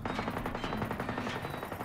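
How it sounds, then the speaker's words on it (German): Gunfire in the video game Generation Zero, a steady rapid stream of repeated shots rattling continuously at moderate distance, with no talk over it. "Irgendwo wird geschossen."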